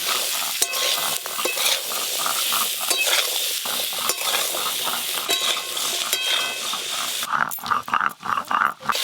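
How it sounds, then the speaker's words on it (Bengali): Potatoes and jackfruit seeds frying lightly in oil with turmeric and salt, a close, busy sizzle punctuated by repeated sharp scrapes and knocks of a spatula stirring the pan. "আলু আর কাঁঠালের দানা ভালো করে একটু ভেজে নিয়েছি হালকা করে।"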